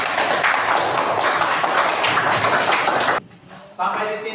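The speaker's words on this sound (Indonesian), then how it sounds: "Tepuk tangan dulu yang meriah untuk kita semua." A class of students in an Indonesian school lesson applauds together, a loud, dense, steady wash of clapping that cuts off abruptly near the end before a brief resumption.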